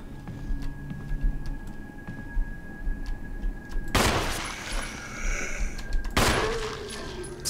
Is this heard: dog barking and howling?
no